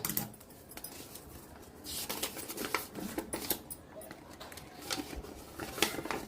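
Scissors snip baking paper into a circle to line a cake tin for an oven-free sponge cake. The cuts come as quiet, close clicks and crisp rustles that repeat irregularly.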